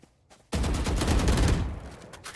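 Rapid automatic gunfire in Valorant bursts in loud and close after a short quiet lead-in, a dense rattling volley lasting about two seconds before tapering off.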